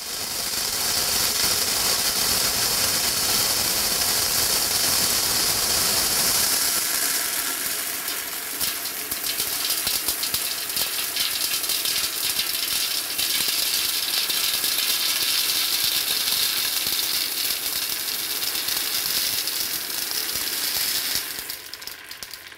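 Thousands of dried beans pour and rattle continuously, a dense, loud clatter that shifts in texture partway through as the stream keeps falling, ending with a final few scattered clicks.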